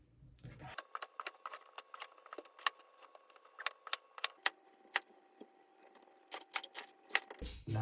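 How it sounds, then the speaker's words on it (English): A knife cutting up puffball mushrooms on a board in a home kitchen, giving a quick run of close, sharp clicking taps separated by brief gaps, heard alone in an otherwise quiet room. "to cut up our mushroom"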